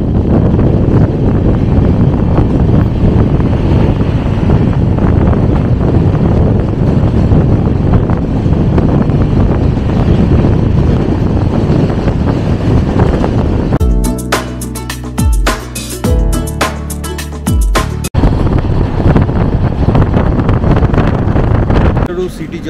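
A double-decker passenger train runs toward Vaniyambadi Junction with a loud, steady, wind-like roar that carries throughout, broken midway by a few seconds of rhythmic clattering before the heavy rumble returns.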